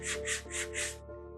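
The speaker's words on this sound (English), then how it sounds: "So just kind of go through and give your piece a good sanding" Sandpaper scrubbed by hand over a small Dollar Tree craft piece: four quick rasping strokes in steady rhythm, close and clear over a faint background hum, then a pause.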